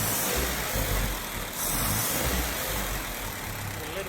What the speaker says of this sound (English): Punch the throttle.